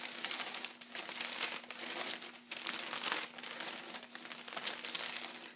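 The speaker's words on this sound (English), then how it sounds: "cover it with baking paper or parchment paper, and then with your iron, just iron it until it's dry" Baking or parchment paper laid over fabric on an ironing board, crinkling and rustling continuously as a dry iron presses across it, soft, close and uneven in rhythm.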